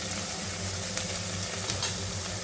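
Capsicum fries in a pan with a dense, even, close sizzle that holds steady throughout.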